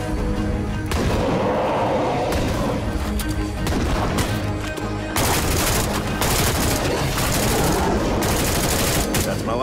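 Gunfire from State of Decay 2 (Juggernaut Edition), a dense, loud barrage of repeated shots and bursts with booming impacts running throughout, and some voice chat mixed in beneath the shooting.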